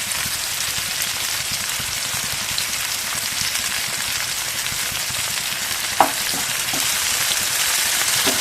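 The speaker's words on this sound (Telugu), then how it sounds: "హై ఫ్లేమ్లో లో ఫ్లేమ్లో అడ్జస్ట్ చేసుకుంటూ బాగా వేయించుకోండి." Vegetables and onions fry in a pan over a flame adjusted between high and low, giving a steady, close, dense sizzle with a faint knock or stir near the end.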